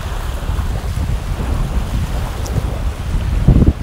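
Wind and waves of the Baltic Sea on a beach on Rügen, a steady low rumble of surf and gusting wind buffeting the microphone, with no talking.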